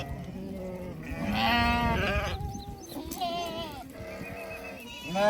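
A flock of goats and sheep bleat repeatedly at close range, overlapping calls rising and falling, some loud and wavering.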